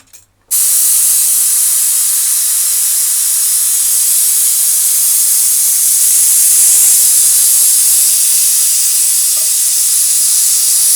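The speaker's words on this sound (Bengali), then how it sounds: "এবার আমি কুকারটা খুলব।" Steam rushes out of a pressure cooker as it is opened while Bengali-style mutton curry cooks, a loud, steady, close hiss that starts abruptly and holds without a break.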